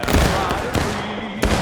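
Infantry musket volley in the War of Rights video game, a dense crackle of several shots in the opening moment, with another sharp shot near the end and a voice calling over the din.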